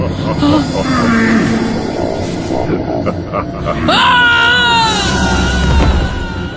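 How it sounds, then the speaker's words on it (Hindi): A frantic human scream in a Hindi horror audio drama, rising into loud, wavering shrieks over grunts and moaning voices, with a tense musical backdrop underneath. "और तभी हमें संगीत की चीख सुनाई दी।"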